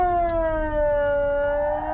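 A Swiss federal civil defense alarm siren test wails steadily with a slowly falling tone, loud and sustained throughout.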